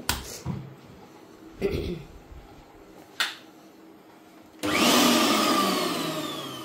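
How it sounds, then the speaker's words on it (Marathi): An electric mixer grinder whirs up loudly and steadily near the end as it grinds chutney ingredients of garlic, green chillies, cumin and turmeric, after a few brief clicks and knocks from handling the jar. "आता मग मी हे साहित्य दळून घेते"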